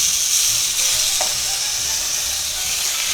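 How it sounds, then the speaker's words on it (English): Frozen boneless pork chops sear in a smoking-hot cast iron skillet, giving a loud, steady sizzle and hiss throughout with no pauses. "Now we're going to put our pork chops right back in there."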